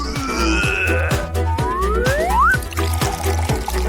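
Liquid pours and trickles into a kitchen machine while it whirs with a steady low rhythmic hum, splashy gurgles rising over the motor and tapering off toward the end.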